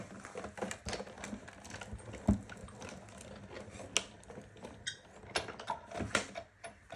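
A 6-inch Sizzix Big Shot die-cutting machine rolls a snap clip die through, giving faint, close, irregular mechanical clicks, creaks and soft thumps that run for several seconds.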